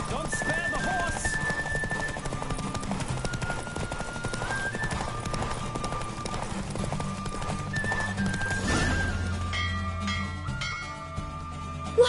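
Galloping horse hooves during a horse race in the video game The Witcher: rapid, steady clip-clop beats with occasional whinnies, set under game music and bells and running continuously for the whole stretch.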